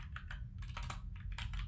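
Keys clack on a computer keyboard in quick irregular bursts of typing, close and fairly soft over a low steady background hum, with no voices.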